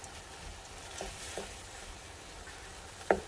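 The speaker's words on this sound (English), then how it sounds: "Then I'm going to add my dehydrated minced onion, and it's going to basically hydrate with all those pan juices and rendered fat." Dehydrated minced onion cooks in rendered breakfast sausage fat and pan juices, giving a steady soft sizzle with faint stirring scrapes and one sharp tap near the end.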